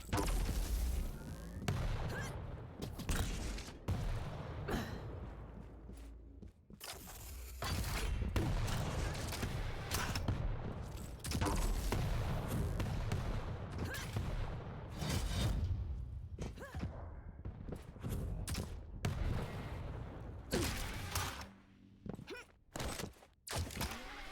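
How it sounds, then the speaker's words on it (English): Rapid bursts of video game shotgun and rocket fire with booming explosions, loud and chaotic, with whooshing projectiles and short gaps between volleys. "a shotgun against rocket fight"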